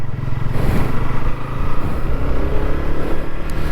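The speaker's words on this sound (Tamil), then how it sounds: "வெஹிக்கிள் ஸ்டார்ட் பண்ணியாச்சு. ஸோ இன்ஜின் பொறுத்தவரை ரொம்ப ரிஃபைன்டான ஒரு இன்ஜின் அப்படின்னு நம்ம சொல்லலாங்க." A 2025 KTM Duke 160 motorcycle engine runs steadily and loudly up close, a smooth continuous drone with no gaps and no talking over it.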